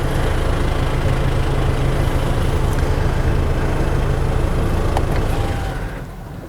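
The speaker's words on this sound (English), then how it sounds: "It is a diesel, it is a little bit noisy." A steady, low diesel engine rumble from a 2011–2018 Range Rover Evoque runs continuously at close range, then drops away and fades near the end as it shuts off.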